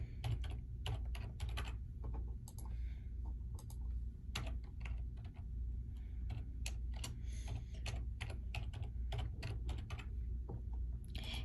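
Fingers type an email address on a computer keyboard, producing a steady run of quiet, rapid key clicks over a low background hum, with no voices.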